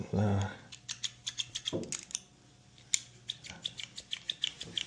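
Freshly adjusted garden pruners with a loosened pivot screw snap open and shut in a quick run of small, crisp metallic clicks. A brief voice comes first, and the clicks sound close and fairly quiet.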